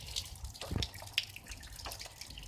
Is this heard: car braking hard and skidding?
no